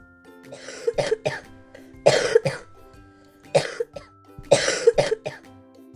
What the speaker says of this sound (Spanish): La señora Claus seguía tosiendo y estornudando mientras corría de un lado a otro.